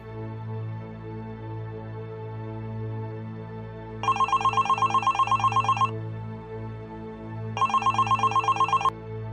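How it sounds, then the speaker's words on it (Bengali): A telephone rings in two bursts of rapid trilling electronic tones, each about two seconds long, over a steady low background hum. "দাঁড়াও আমি ডাক্তার আঙ্কেলকে ফোন দিচ্ছি।"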